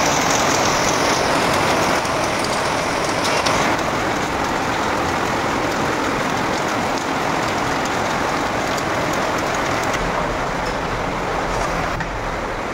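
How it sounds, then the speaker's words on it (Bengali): A heavy downpour of rain drums steadily on surfaces nearby, loud and continuous, with a dense pattering that holds at the same level the whole time and no talking. "মুষল ধারা নেমেছে"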